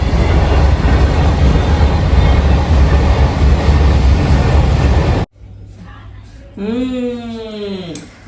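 A freight train rumbles loudly and steadily past a level crossing for several seconds, then cuts off abruptly, followed by a quieter stretch with a rising tonal sweep.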